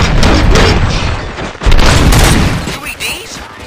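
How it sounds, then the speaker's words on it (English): Gunfire in the video game RoboCop Rogue City, loud booming shots and bursts in quick succession with heavy low-end impact, dense and close throughout. "Gunshots? What's going on?"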